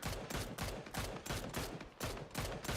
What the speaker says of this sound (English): Jones shooting now. Solid headshots.